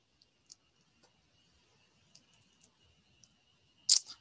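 Computer mouse clicks, a handful of sparse, isolated ticks spread over a few seconds, ending in a slightly louder double click, close and quiet with no talking.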